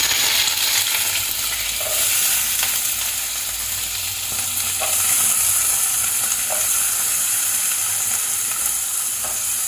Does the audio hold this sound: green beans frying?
yes